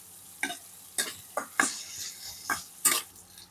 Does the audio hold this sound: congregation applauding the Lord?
no